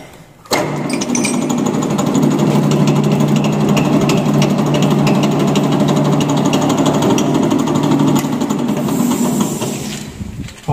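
A lathe drilling a centre hole in a workpiece with a centre drill gives a loud, steady machine drone with a constant low hum and gritty cutting noise, running unbroken for the whole stretch.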